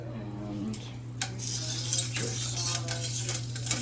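Tongs clink and scrape against a pot as food is broken up in stock, with light metallic taps and stirring noises over a steady background hum.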